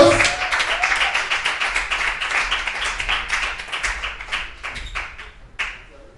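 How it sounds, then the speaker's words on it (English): A small live audience at a poetry event at the Five Spot claps for a performer, dense close hand claps that swell and then thin out to scattered claps before stopping. "Let me get another round of applause."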